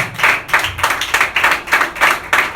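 A church congregation clapping in rhythm, a quick run of about a dozen sharp, fairly close handclap bursts at a steady pulse, loud and without talk.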